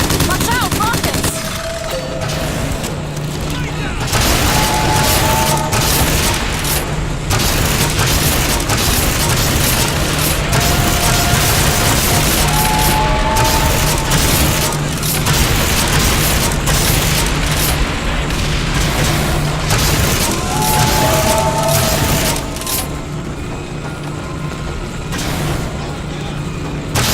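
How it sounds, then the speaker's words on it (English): Bombs and rockets bursting in battle over a flagship in BioShock Infinite, loud repeated booms and rattling blasts layered in a dense, continuous barrage with voices shouting under the chaos. "The bombs are coming to attack the flagship. Watch out, rockets!"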